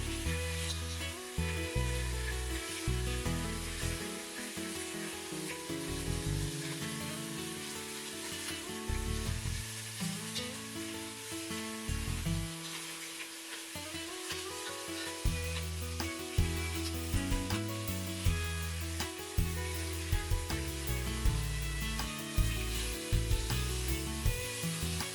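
Bite-sized steak pieces searing in a hot pan, a steady close sizzle and crackle running throughout with occasional stirring and scraping, no voices.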